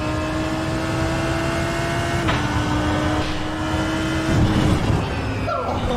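A race car engine in the sim racing game iRacing holds a steady high drone, dropping slightly in pitch partway through and shifting near the end.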